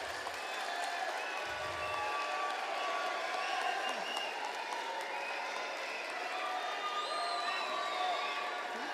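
A graduation audience applauds and cheers for the parents, a steady wash of distant clapping with scattered whoops and crowd murmur throughout.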